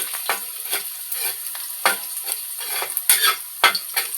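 Onion and garlic sautéing in oil are stirred in a pan, a continuous crackling sizzle broken by repeated scraping strokes of a spatula, close and clear, with no talk.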